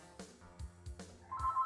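Phone ringing in a room, faint and distant, a few short repeated rings over quiet background.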